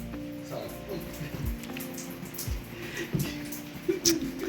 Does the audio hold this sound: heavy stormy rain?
yes